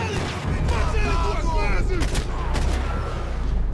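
Gunfire in the Max Payne 3 video game, dense, loud shooting running nearly the whole time under a voice talking over the action.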